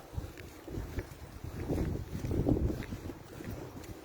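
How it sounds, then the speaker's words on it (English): Strong wind buffets the microphone in low rumbling gusts that swell and fade, loud and close, with no clear voices. "Yeah, it's very windy."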